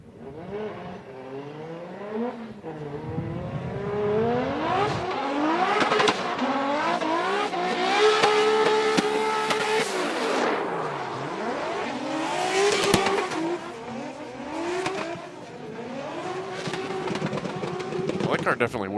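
A Formula Drift car at a Pro Spec seeding run in Indianapolis revs hard with rising and falling engine whine and squealing tires, loud throughout, as commentators talk over it.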